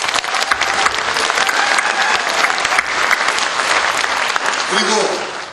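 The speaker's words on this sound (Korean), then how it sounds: "뜨거운 박수를 보내드립니다." Loud, sustained applause from a political rally audience at a Democratic United Party joint campaign speech in Gangwon, steady throughout and thinning out at the very end.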